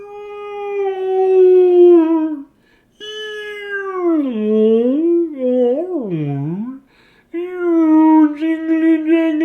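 A human voice imitating a whale call: long, loud, wavering moans that slide up and down in pitch, with short pauses between the drawn-out cries.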